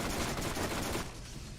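Rapid automatic fire from the Hellfire gun in Borderlands, a dense crackling burst lasting about a second before dropping to a quieter tail; no one speaks.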